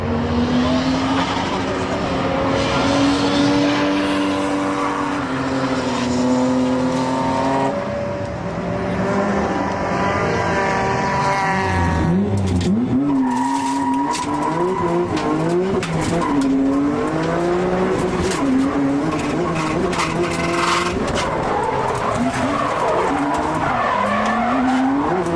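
Tezuka's new R32 Skyline-based drift car with a wide body kit drifts at a D1GP event at Sugo, its engine revving hard and loud under long, sustained tyre squeals that stay close throughout.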